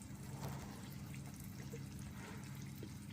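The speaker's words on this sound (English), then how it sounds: "Now we put 1 cup of water." A cup of water is poured slowly into tomato paste for spaghetti sauce, making a faint, steady trickle with a few small splashes, alone and without speech.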